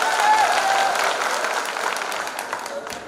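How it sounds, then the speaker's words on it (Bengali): An office function audience gives a loud burst of applause, dense continuous clapping from a crowd that stays strong throughout and tapers a little toward the end. "সবাই জোরে করতালি।"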